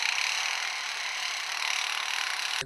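A lyrebird imitates a saw cutting wood, mimicking construction tools at a zoo: a harsh, sustained rasping hiss with a fast, faint pulsing texture running for nearly three seconds before stopping abruptly, close and unaccompanied by speech.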